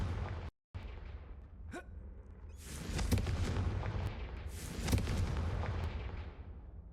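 Blasts of the Confringo fire spell in the video game Hogwarts Legacy: a sharp crack then dense, roaring bursts that swell and rumble on for several seconds at moderate loudness, with no talk.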